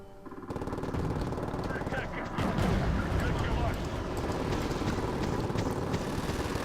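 Bombs from a Wargame: AirLand Battle air strike land in a dense, continuous rumble of blasts and crackling impacts that grows heavier after the first couple of seconds, loud and sustained under a busy battle din.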